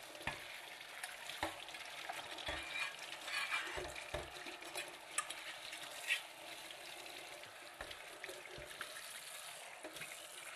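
Warm water running and swishing in a cast iron pan being washed clean, with steady splashing, scrubbing and intermittent clanks close by, no talk.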